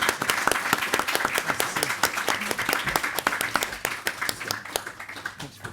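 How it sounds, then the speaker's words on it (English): A small audience at a talk on household finances applauds a departing guest named John, with distinct, closely packed hand claps that sound near and keep a brisk, steady rhythm throughout. "if we could give a round of applause to John"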